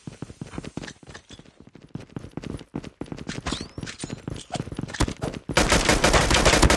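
Rapid bursts of automatic gunfire in a Call of Duty match, loud and close, firing in choppy clusters that build into a dense, sustained barrage at the end.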